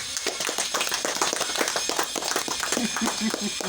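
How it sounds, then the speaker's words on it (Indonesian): Parents and guests at a kindergarten graduation clap together in a busy room, the close clapping mixed with overlapping voices that grow more prominent toward the end. "Kita tepuk tangan buat mereka bertiga."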